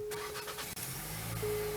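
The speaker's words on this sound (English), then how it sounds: "when you get in the car and start it up" A 2025 Nissan Kicks engine starting: a brief starter crank followed by the engine catching into a low, smooth idle hum, fairly close and quiet, with no talk.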